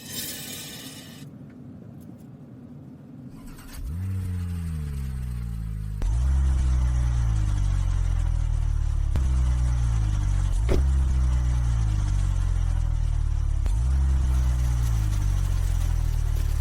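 A new Maybach car's engine running while looking for parking, a smooth steady low hum that rises in level partway through, with faint clicks repeating at regular intervals, no talk.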